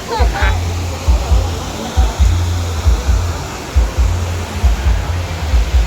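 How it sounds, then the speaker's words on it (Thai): Constant rushing roar of falling water, loud and close, with low rumbling gusts pulsing through it. "ถึงแล้วค่ะน้ำตกตัดต้นจ้า"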